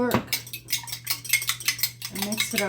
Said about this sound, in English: We're going to use a fork